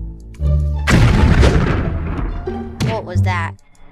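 TNT explodes in Minecraft, a loud booming blast that rumbles for a couple of seconds before fading, with game sounds and talk around it.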